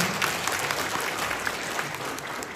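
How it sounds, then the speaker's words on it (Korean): Steady applause from an audience at a Jeju town-hall dialogue with the provincial governor, a dense, even patter of clapping that carries on for the whole stretch without voices. "박수 한번 보내면 어떻습니까?"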